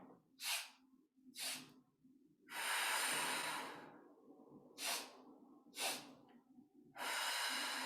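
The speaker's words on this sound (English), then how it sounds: "We're going to inhale 2 sniffs." Sharp nasal sniffs in pairs, a two-sniff breathing exercise during a stretching workout, alternate with longer breathy exhales, close and fairly loud, with a faint steady hum underneath.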